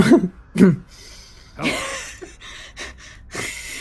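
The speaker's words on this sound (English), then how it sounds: "Everybody in the room coughs exactly the same time" A burst of coughing and throat clearing from several people at once, overlapping and rough, followed by lingering room noise.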